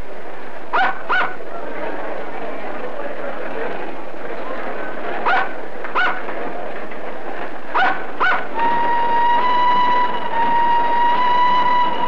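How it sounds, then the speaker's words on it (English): A train sounds its horn in several short paired blasts, then a long sustained tone, over a continuous rumble of rolling rail traffic at a station. "your train will be leaving"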